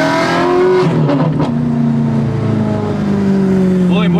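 Ferrari 430 Scuderia engine rising in pitch as it accelerates onto a freeway, heard from inside the car as a loud, steady race-car roar with a few brief bursts over it.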